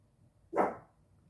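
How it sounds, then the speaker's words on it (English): A single dog bark, short and fairly close, rising sharply and fading within a fraction of a second against a quiet indoor background. "I know I'm done with your pile when the dog starts to bark."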